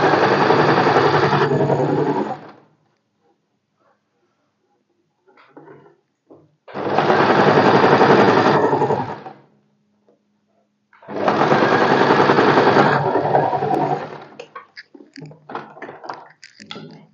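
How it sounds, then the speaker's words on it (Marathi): A sewing machine stitching along the corner of a blouse strip in three loud bursts of a few seconds each, with fast rhythmic needle clatter, separated by quiet pauses with faint fabric handling. "ह्या पट्टीच्या एकदम कॉर्नरने स्टिच करून घ्यायचं."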